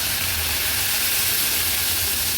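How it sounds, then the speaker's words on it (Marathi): Finely chopped onion goes into hot oil and butter in a pan, giving a steady, loud, close sizzle and hiss that runs unbroken, with no talking. "आता एक मीडियम साईजचा कांदा ना बारीक चिरून हे बघा असं मिक्सरला लावून घेतलाय, तो ऍड करूया"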